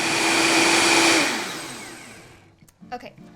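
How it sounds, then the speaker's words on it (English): A blender runs on high, loud and steady, blending nuts for homemade nut milk, then winds down and stops near the end, leaving a few faint clicks. "You can blend the nuts now. Going to put that right on high."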